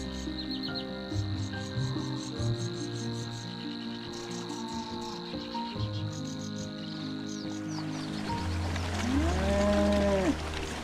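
Cattle on a lush meadow pasture in Poland, cows mooing in drawn-out calls near the end, set against a steady bed of chirping crickets and occasional birdsong.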